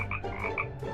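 Several frogs croak in a kitchen, overlapping bright rasping calls coming in quick bursts over a low murmur of background noise.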